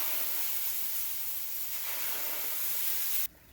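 Two cups of wine are poured and stirred into a hot turkey roasting pan for gravy, giving a loud, steady broadband sizzle and hiss that cuts off abruptly near the end.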